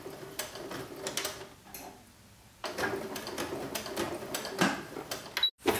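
A sewing machine stitching forward and then running a back stitch on fabric, with quick ticking mechanical runs that stop briefly and resume, close and fairly quiet.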